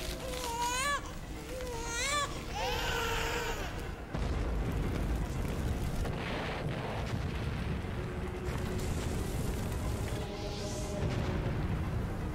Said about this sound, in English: What are these explosions?